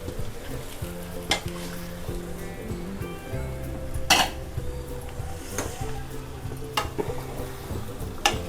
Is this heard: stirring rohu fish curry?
yes